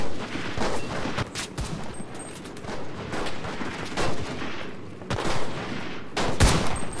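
Gunfire in the video game Enlisted, heavy overlapping rifle and machine-gun bursts from a battlefield, with loud cracks near and far and sharp spikes amid continuous rattling fire.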